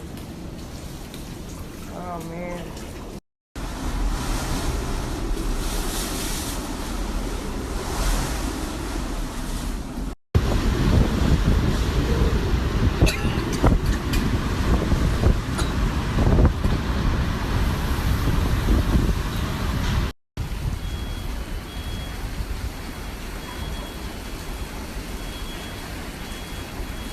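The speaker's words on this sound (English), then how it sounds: "Definitely a lot of water coming through here, through those windows." Hurricane Maria's wind roars and water pours in through windows, a dense, continuous wash of noise filling the space with short breaks, while a voice exclaims over it.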